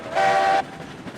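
A short, loud blast of a coal-fired steam locomotive whistle in the video game Railroads Online, about half a second, followed by low rumbling of the engine.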